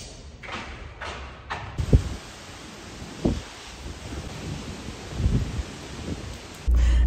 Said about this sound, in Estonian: Väga suur tuul on